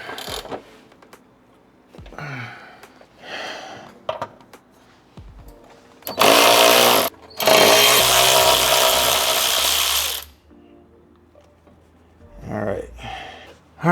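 Power tool loosening 14 mm bolts on a 2020 Subaru WRX during a drive shaft lockdown install, heard as two loud sustained bursts of whirring amid quieter handling noises, with a person talking between them.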